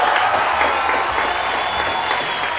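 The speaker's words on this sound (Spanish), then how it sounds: "Un fuerte aplauso para Fernando Burlando." A television studio audience applauds a guest with dense, continuous clapping mixed with crowd noise, loud and steady for a couple of seconds without any speech.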